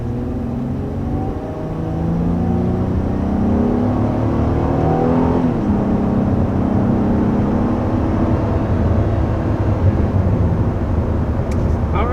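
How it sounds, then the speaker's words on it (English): A 2021 Honda Pilot with its 3.5 liter V6 accelerating from 0 to 60, engine note rising through several gear changes with a steady cabin drone, heard from inside and without talk. "0 to 60 in this 2021 Honda Pilot"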